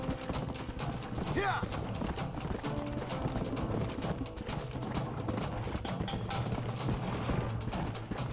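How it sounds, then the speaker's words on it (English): Horses trot at a steady clip-clop in the Red Dead Redemption video game, hooves carried under continuous game music and ambient mechanical sounds with talking over it. "look at how slow these horses go"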